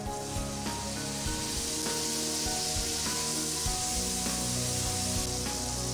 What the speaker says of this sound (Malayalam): കായപ്പൊടി, ലെമൺ ജ്യൂസ് ഇതിലേക്ക് ഒഴിച്ചു കൊടുക്കാം.